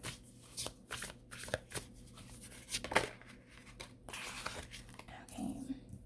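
Tarot cards shuffled by hand at close range, a series of soft riffling and flicking strokes with quiet slaps, fairly faint and uneven in rhythm.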